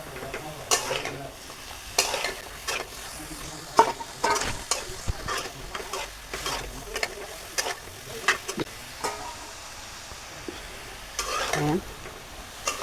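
Stirring in a pan as taro and taro stolons fry, with repeated scraping strokes and bursts of sizzle at an uneven rhythm, close and moderately loud, no talk.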